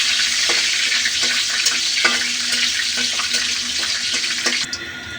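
Food frying and stirred in a pan gives a steady, loud sizzle with scraping strokes of the utensil throughout, and a faint trickle of running water toward the end.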